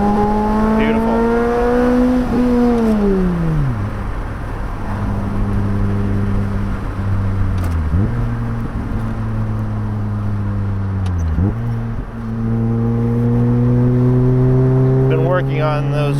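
A Lotus Elise engine drones loudly from inside the car, its pitch sweeping down in steps as quick blips mark rev-matched downshifts, then climbing again, steady and close throughout.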